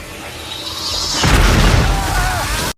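Planet exploding in a superhero movie scene: a low rumbling roar swells into a heavy booming blast that sustains for over a second before cutting off abruptly.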